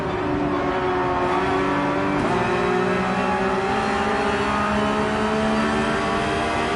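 Porsche 911 GT3 engine in Gran Turismo 7 at Mount Panorama, revving high and steady with a loud, continuous strained tone that dips briefly at a shift before climbing again.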